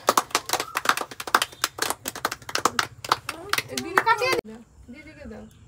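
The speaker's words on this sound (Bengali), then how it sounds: "হাততালি দাও সবাই" People clap at a small child's village birthday celebration, with quick, uneven handclaps close by, mixed with children's voices and adult chatter throughout.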